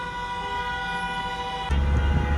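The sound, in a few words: car horns honking at a border crossing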